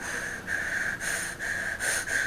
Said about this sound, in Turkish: Bir ara benim odam mı acaba nefes alıyor?